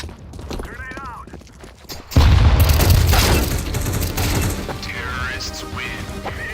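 A grenade blast in a Counter-Strike style video game lands as a loud, sudden boom about two seconds in, and the rumbling tail carries on for several seconds while players talk over it.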